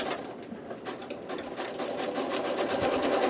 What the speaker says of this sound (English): Let me sew a little bit further, and you'll be able to see what I'm talking about.